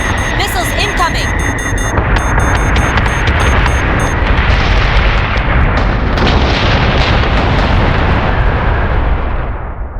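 Heavy space-battle barrage from Battlestar Galactica Deadlock, with dense rumbling missile explosions and gunfire-like bursts filling the whole stretch loudly, continuous and layered, fading slightly at the end.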